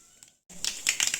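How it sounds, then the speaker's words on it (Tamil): After a brief hush, rapid crackling pops burst out as mustard seeds splutter in hot oil, sharp and close. "கொஞ்சம் கடுகு எல்லாம் வெடிச்சதுக்கப்புறம்"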